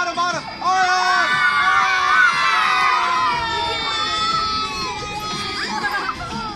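Children shout loudly together as a crowd at a clown show in Başakşehir, a sustained, dense burst of excited young voices and cheers that fills the whole stretch, with an adult voice among them.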